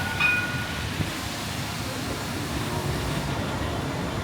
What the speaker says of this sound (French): Regardez-moi le train de la Cannes, le tramway de la Cannes, magnifique.